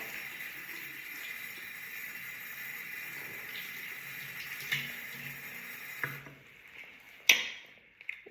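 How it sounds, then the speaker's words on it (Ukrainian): Running water rinsing a sink or basin during cleaning, a steady close hiss of tap flow that stops near the end, followed by a few brief clunks and knocks. "І змиваємо водою"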